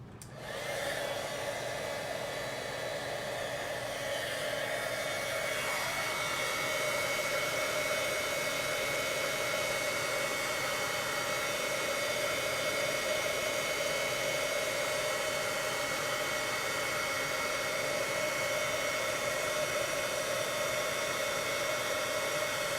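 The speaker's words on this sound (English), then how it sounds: "Now we'll bring in the heat tool and heat it up." A handheld heat tool melting embossing powder on a card blows as a loud continuous whooshing hum, starting abruptly and holding steady for over twenty seconds, with no voices over it.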